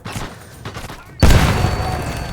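A mine explodes in Sniper Elite VR: quieter scattered gunfire gives way to one sudden loud blast partway through, followed by a sustained roaring decay.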